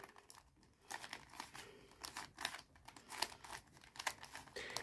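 Clicks and crinkly plastic turns of a 3x3 Rubik's cube being scrambled, a quiet continuous rattle of rapid twisting with brief pauses and sharper snaps throughout.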